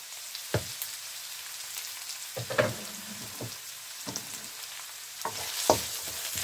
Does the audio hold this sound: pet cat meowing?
no